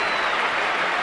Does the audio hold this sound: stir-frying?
no